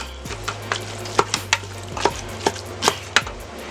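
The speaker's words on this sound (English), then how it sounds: "so you can see the sausage is cooking up nice" Sausage browning in a pan with onions and garlic is chopped apart with a utensil, sharp knocks and scrapes against the pan every fraction of a second over a soft sizzle and low hum, close by.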